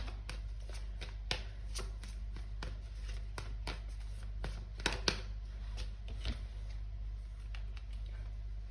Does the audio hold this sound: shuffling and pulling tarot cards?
yes